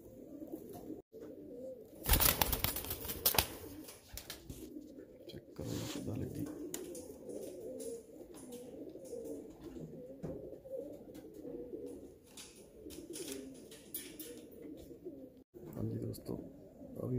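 A pigeon coos close by in low, soft, repeated rolling calls, with a brief louder flutter near the start.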